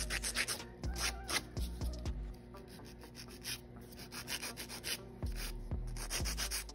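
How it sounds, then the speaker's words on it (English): Acrylic nails being filed into shape with a nail file: close, steady rasping strokes repeating in a brisk back-and-forth rhythm, with no voices. "That's minimal filing to do."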